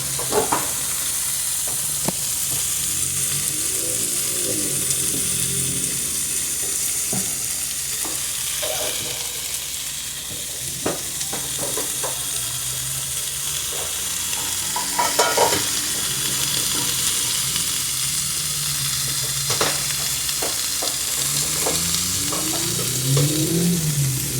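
Lamb sizzles steadily in a pan, a dense close crackle that continues throughout with occasional scrapes and stirring clicks and no voices.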